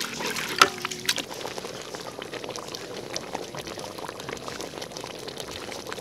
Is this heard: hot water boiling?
yes